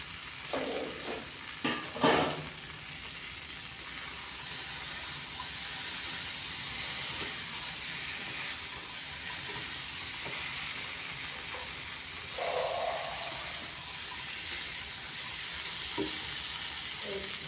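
Paneer fries in spiced oil in a village-style kitchen, a steady moderate sizzle and hiss with a couple of sharp clatters at the start and a brief louder spatter midway.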